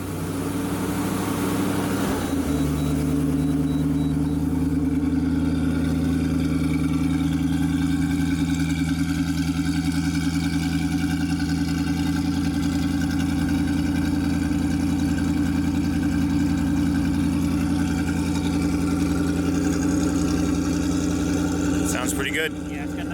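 A 1928 hot rod engine idles with a steady, low exhaust rumble, running loud and continuous after a brief shift near the start, with a few light clatters at the end.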